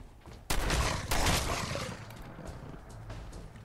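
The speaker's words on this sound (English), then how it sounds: "now let's change back to the shotgun" Shotgun fire in the video game Fallout 4: two heavy, booming blasts about half a second apart, each followed by a rumbling decay and lingering noise.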